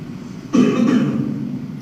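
A single short cough or throat clear, close and clear, rising out of low background noise.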